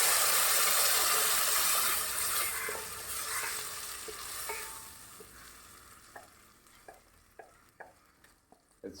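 Spice paste for Goan hog plum curry frying in a pan, a loud sizzle that fades over several seconds while a spoon stirs and scrapes with sharp clicks.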